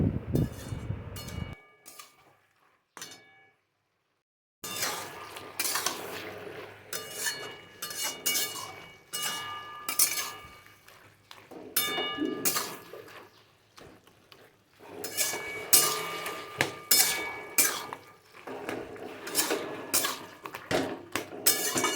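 Metal spatula scraping and clinking in a cooking pan while stirring fried hilsa fish pieces with spices and taro leaves, a steady run of irregular clatters and scrapes with brief pauses.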